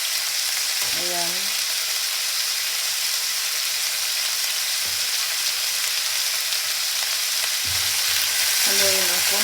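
Squash and chicken fry in a pan with a constant loud sizzle, broken by a few short stirring scrapes and clinks. No one speaks.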